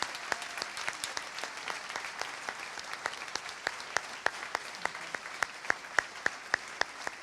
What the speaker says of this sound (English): So for everyone who performed, can we have one more round of applause?